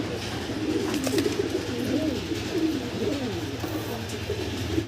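A pair of satin pigeons cooing: close, repeated rolling coos rising and falling over a low steady hum, continuous for several seconds without speech.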